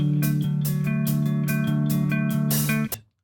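Electric guitar arpeggios ring out high up the neck, a fast, steady run of bright, sustained picked notes played loud and alone for about three seconds before cutting off.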